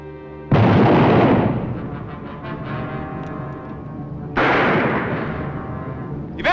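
Gunfire in a western shootout between a lawman and gunmen, two loud close booming shots a few seconds apart, each followed by a long decaying echo and rumble.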